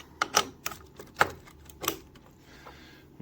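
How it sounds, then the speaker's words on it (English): A VSSL Java G25 hand-cranked manual burr grinder crushes a few coffee beans, giving irregular sharp cracks and crunches, close up and moderately quiet, with no talking. "you can hear the Burr grinders working away"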